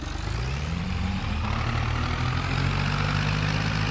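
An old Turkish Fiat tractor engine in a farming game drones with a low, steady rumble, loud and continuous throughout with no breaks and no voices.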